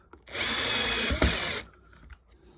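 A power drill whines at high speed for just over a second while countersinking a screw during a shower renovation, then stops as the screw seats, close and fairly quiet.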